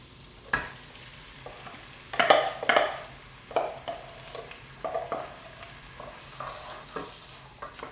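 Minced onion stirred in melted butter in a pot, with irregular scraping and clinking strokes of the spoon over a soft sizzle, loudest in a few close bursts.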